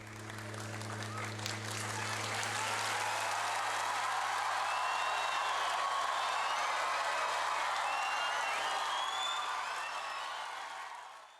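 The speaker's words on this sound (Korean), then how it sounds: "관객들은 큰 박수로 맞이합니다" An audience gives sustained, dense applause after a Little Angels children's troupe performance on a touring show marking the Korean War's 60th anniversary; the clapping rolls steadily throughout over a low hum.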